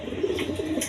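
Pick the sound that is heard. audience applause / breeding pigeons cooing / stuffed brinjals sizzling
breeding pigeons cooing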